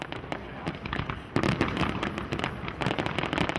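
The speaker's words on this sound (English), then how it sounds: "The Romaria of Senhora da Agonia ends in a spectacular firework display lighting up" Fireworks over the River Lima at the Romaria of Senhora da Agonia festival in Viana do Castelo bang and crackle in quick bursts, some sharp and close, others softer, layered over a dense rumbling wash.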